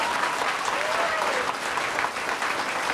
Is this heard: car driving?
no